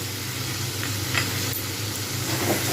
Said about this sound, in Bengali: এর মধ্যেই দিয়ে দেবো আমি পেঁপেগুলো